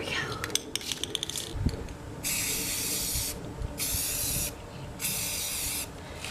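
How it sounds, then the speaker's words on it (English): Spray paint can hissing in several sustained bursts as orange paint coats pumpkins for a fall craft, with brief clinks and rattles of the can before the long sprays, close and fairly loud. "Let's get spray paint"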